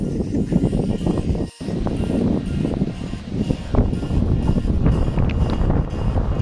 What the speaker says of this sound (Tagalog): So guys, it's super windy and I'm still down here.